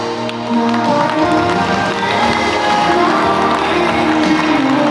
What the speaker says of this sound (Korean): 신랑이 힘차게 입장할 수 있도록 여러분들께서 더욱더 큰 박수로 맞아주시기 바랍니다.